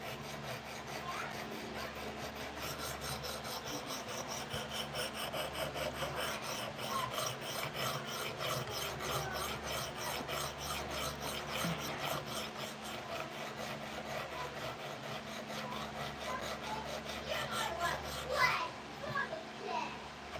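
A CPM Cruwear steel blade is drawn over a sharpening stone in steady, repeated rasping strokes, close and fairly continuous, with a low background hum throughout.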